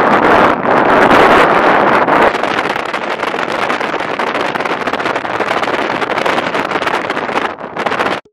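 Strong wind in Antarctica buffets the microphone with loud, roaring gusts, a dense rushing blast that surges and dips continuously for several seconds before cutting off.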